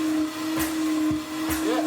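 A Sebo Felix upright vacuum cleaner runs with a steady motor whine, its pitch rising and dipping as it is pushed back and forth close by, with no talk.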